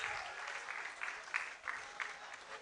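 Applause from an audience at a university debate championship, a steady, fairly faint wash of clapping with a few louder bursts over about two and a half seconds.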